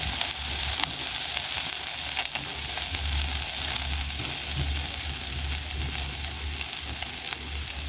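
Onions frying with matumbo (beef tripe) in a pan for a Kenyan dish, a steady loud sizzle running the whole time with a low rumbling bed beneath and no talking.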